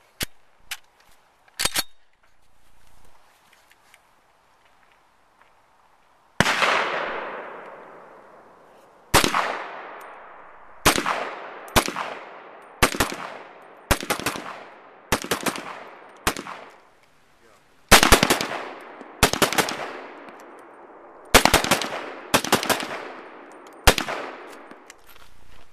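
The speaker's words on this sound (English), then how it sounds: "This is a really smooth, nice gun to shoot." An Israeli Police M1 Carbine rifle fires outdoors, about a dozen loud, sharp single shots, each ringing out with a decaying echo, spaced irregularly and quickening into close pairs toward the end.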